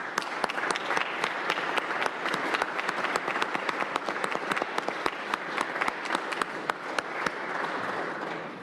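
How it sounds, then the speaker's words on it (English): Sustained applause from an audience at a Cleveland fire cadet graduation ceremony, honoring the cadets' families and friends; dense, steady clapping from a large crowd, loud and continuous throughout. "recognize who helped you reach this point with a round of applause for your family"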